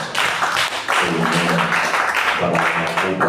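A church congregation claps together in sustained, dense applause that fills the space, with voices and a musical tone running underneath.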